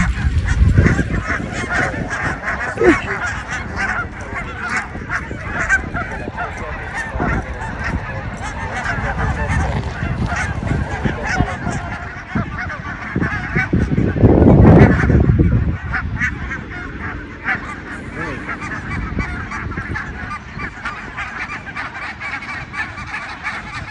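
Wild ducks or geese honking and quacking outdoors in a flock, loud and continuous, with a burst of louder calls midway and faint voices now and then.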